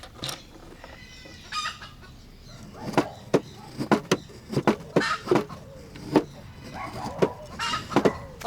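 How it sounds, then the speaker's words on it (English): Chickens cluck and squawk in an agitated burst near a secluded waterfall in Puerto Rico toward evening, with many sharp close calls in an irregular rhythm over faint background noise. "These chickens are going crazy."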